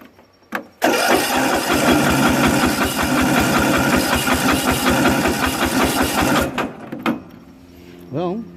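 A Craftsman 13.5HP riding lawn mower engine on low choke cranks and catches abruptly, then sputters and chugs unevenly for several seconds before dying out, followed by a brief rising squeak.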